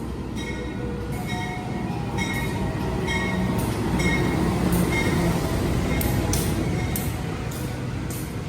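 Onboard the Pangandaran train out of Bandung, a steady rolling rumble fills the carriage, with faint rhythmic wheel clicks and occasional soft squeals over the track noise.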